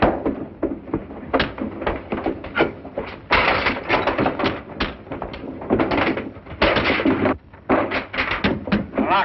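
A fist pounds on a locked wooden door in a 1930s film scene, a series of loud, uneven thuds coming in bursts with short pauses between them.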